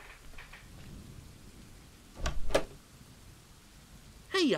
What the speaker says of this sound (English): how bad is this storm?